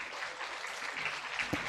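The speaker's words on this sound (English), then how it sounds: "Please give applause for that excellent presentation." Faint, distant applause from a conference audience after a student presentation, a low, even patter under roughly two seconds of room sound.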